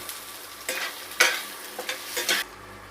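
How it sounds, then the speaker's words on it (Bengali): Chopped onion fries in a pan until lightly browned, giving a soft steady sizzle. Several louder bursts of stirring and scraping come in quick succession before it quietens. "পেঁয়াজটাকেও আমি হালকা লাল করে ভেজে নেব।"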